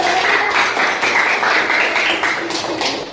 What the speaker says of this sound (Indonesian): Oke, tepuk tangan dulu Mbak